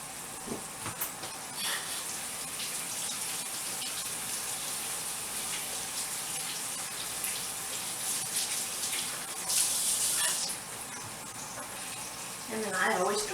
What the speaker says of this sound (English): I'm going to rinse my onion off.